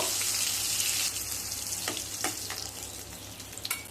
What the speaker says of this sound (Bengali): এইভাবে কিন্তু পটলগুলোকে খুব সুন্দরভাবে ভেজে নিতে হবে